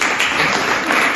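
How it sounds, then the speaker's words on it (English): An audience applauding, a brief, dense burst of clapping heard close and loud, with no voices over it. "Give him a round of applause."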